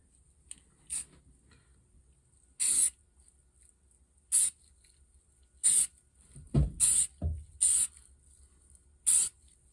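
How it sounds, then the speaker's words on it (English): Several short hissing bursts of spray paint onto a rifle, spaced irregularly with quiet pauses between, close by, with a few soft handling clicks and no talking. "I'm just going to spray in between the light colored greens that I did"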